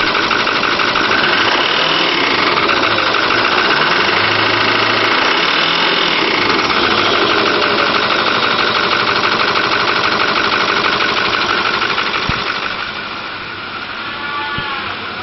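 A 2008 Ford F250 Super Duty pickup with a 6.4 liter turbo diesel and automatic transmission runs steadily, a loud close clattering idle with constant rumble that eases slightly in the final seconds.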